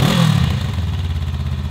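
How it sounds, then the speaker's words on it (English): A Honda Rebel 500 motorcycle with a 2-into-1 exhaust, 180-degree firing order and dual resonator chambers gives a low, steady grumble. It starts with a brief rev that drops back to a close, even idle-like throb. "The 2-into-1 exhaust has a suitable grumble"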